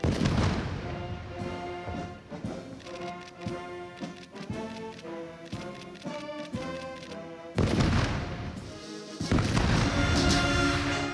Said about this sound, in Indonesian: Dentuman meriam sebanyak 21 kali